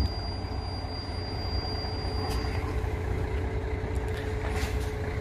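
A car rolls around a corner during a beginner's driving lesson with a driving school, a steady close engine hum and road rumble with no talk.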